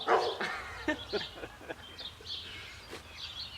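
A dog barks and yips in a few sharp bursts close by during a spring youth wild turkey hunt in Indiana, with birdsong chirping faintly in the background.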